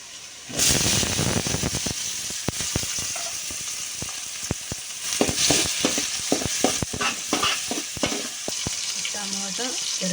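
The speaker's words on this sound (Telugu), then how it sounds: "టమాటా, ఎర్రగడ్డ నీట్గా ఫ్రై అయిపోవాలి మెత్తగా." Tomatoes and onions fry in a pan with a loud, constant hissing sizzle that begins abruptly, punctuated by many sharp clacks and scrapes of a spatula against the pan, no speech.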